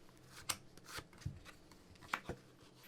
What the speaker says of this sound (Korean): 포인트 카드를 좀 이 서브덱으로 뽑아보도록 하겠습니다.